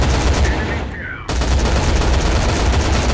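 Continuous loud automatic gunfire aimed at enemies in the Hybrid shooter game, a steady dense stream of shots with a brief dip before it resumes at full intensity.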